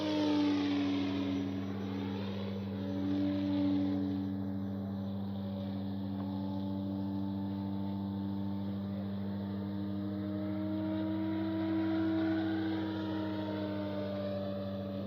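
E-flite Carbon Z T-28 RC warbird plane flying at full speed into the wind, a steady electric motor drone with rising and falling pitch as it passes, continuous and moderately distant.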